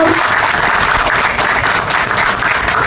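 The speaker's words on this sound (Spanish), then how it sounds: "Aplausos, por favor." A crowd at a literature talk applauds loudly and continuously, a dense wash of clapping from many hands that holds steady throughout.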